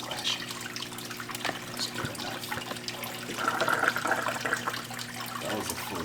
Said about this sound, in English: we can easily just wash it out in our bin we're filling with tank water right now